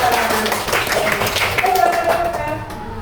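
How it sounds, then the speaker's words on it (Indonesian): Classroom clapping for a student group in a fourth-grade lesson, a dense, steady patter of many hands lasting the whole moment at close range, with children's voices mixed in. "Beri tepuk tangan yang meriah untuk kelompok jajar genjang."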